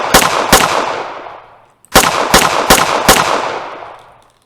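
Pistol gunshots in an Unreal Engine 5 first-person shooter game: two sharp loud shots, a brief pause, then four more evenly spaced cracks, each with a short decaying tail.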